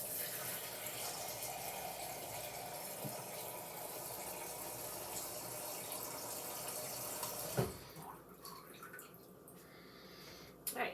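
Filtered water pouring steadily into a pot of lentils, a soft continuous splashing stream that ends with a small clink, followed by quiet room noise.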